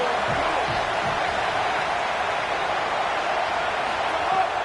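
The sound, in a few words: stadium crowd noise in NCAA 27 football video game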